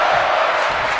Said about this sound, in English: Crowd is chanting fight forever